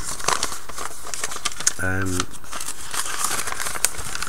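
A battered mailing envelope is crinkled and torn open up close, with papery rustling and crackling bursts under a person talking.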